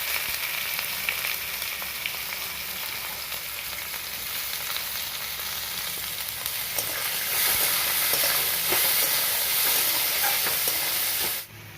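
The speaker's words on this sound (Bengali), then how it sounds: "আমি এবার দিয়ে দিচ্ছি পেঁয়াজ ভেজেগুলো।" Fried onions go into a pan of sizzling whole spices, giving a steady, loud frying hiss that swells partway through and then cuts off abruptly at the end, with no talking.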